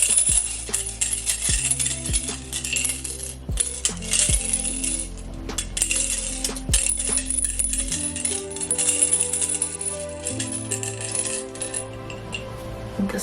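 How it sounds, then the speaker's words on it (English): Pokémon dice shaken and rolled, a sustained busy rattle of small hard pieces clattering together over several seconds, close and fairly loud with no talking. "I'm gonna go ahead and shake this, take 1 dice and roll it."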